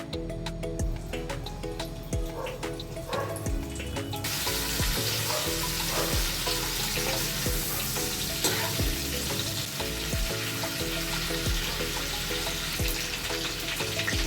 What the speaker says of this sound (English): Now into this I will even fry the cauliflower, just light brown, just a bit.